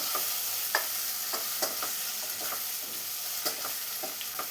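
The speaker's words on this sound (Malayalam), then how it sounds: "ഇനി ഇതും കൂടെ നന്നായി ഒന്ന് വഴറ്റിയെടുക്കണം." Chopped tomatoes and onions are sautéed in a pan for Kerala-style chicken kurma, with a steady sizzle underneath and a spoon stirring and scraping at irregular intervals, close up and with no talking.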